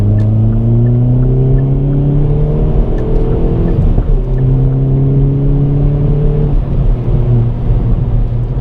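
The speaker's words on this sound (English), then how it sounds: "I actually like this engine because it revs really clean." Hyundai i30 N Performance engine revving, a loud steady drone with rising and falling harmonic sweeps as the revs climb, dip near the middle and climb again, continuous throughout with no talk.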